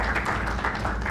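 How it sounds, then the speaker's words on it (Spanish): Brief burst of steady clapping from an audience at a youth debate event, near and even, with no talking over it. "Entonces démosle un fuerte aplauso."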